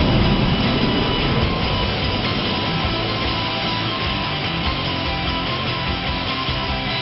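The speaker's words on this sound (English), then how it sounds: "Now here I am flying this big jet every day." A big jet's engines give a steady, dense broadband roar that fills the scene continuously, loud and unbroken throughout.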